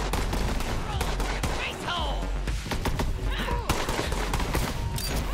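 Rapid Tommy gun bursts fire in the video game Borderlands 3, loud and continuous over dense game noise, with voices in the background.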